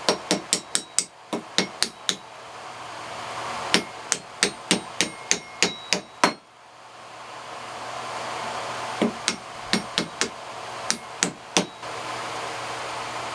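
A hammer drives a dowel through a one-inch steel dowel plate in sharp, ringing metallic blows, struck in quick bursts of four to seven hits separated by short pauses.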